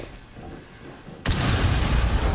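A breach charge detonates in a Rainbow Six Siege Tower bomb match, a sudden loud boom that cuts in after a quiet stretch and leaves a sustained, noisy rumble of debris.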